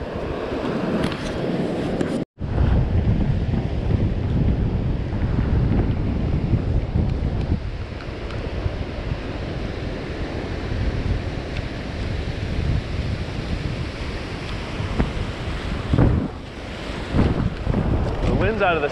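Strong wind buffets a boat at sea off Pompano, a loud continuous roar with microphone rumble and splashing water, broken by one abrupt brief dropout early on.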